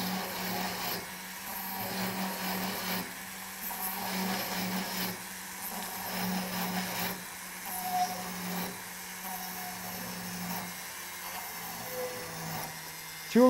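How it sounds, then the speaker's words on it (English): A metal rod is worked on a flex shaft to form a peg for a decorative rivet, producing a repeated rhythmic grinding rasp in short strokes over a low steady motor hum, close and moderately loud. "So we'll begin just by filing a peg out of this."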